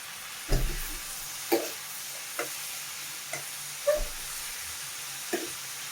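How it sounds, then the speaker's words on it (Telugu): A spoon of oil goes into a hot cooking pan while butter chicken is made, giving a steady, faint sizzle broken by several soft clatters of a spoon against the pan at uneven intervals. "ఇట్లా దీన్ని 1 స్పూన్ ఆయిల్ వేసేస్తాం మనం"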